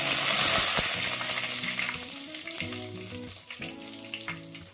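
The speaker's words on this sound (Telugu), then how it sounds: "ఒక 2 ఎండుమిర్చి వేసుకొని వేయించుకుందాము" Two dried red chillies sizzle loudly in hot oil, the crackling frying strongest at first and then settling lower, with a few light clinks from stirring.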